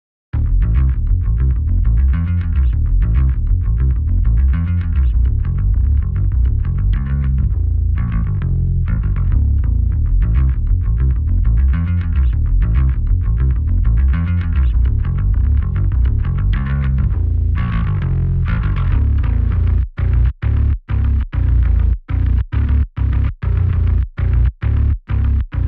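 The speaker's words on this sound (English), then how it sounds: "The bands here are compression in the lows and distortion in the mids and highs." A music mix run through the JST Heat plugin, with compression on the lows and distortion on the mids and highs, plays as a dense, gritty, saturated stream, ending in a series of sharp rhythmic stops and hits.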